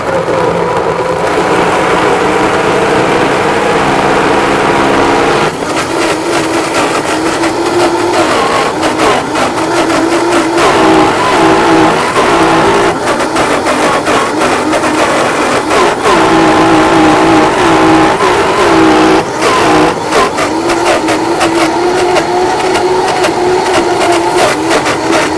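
A food processor grinds dates into a paste, its motor a loud, steady, strained whirr that runs without a break for about twenty-five seconds, with no talking.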